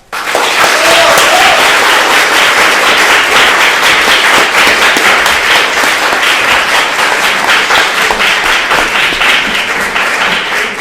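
Loud, sustained applause fills a debate hall, dense clapping from a large audience continuing steadily throughout with no pause.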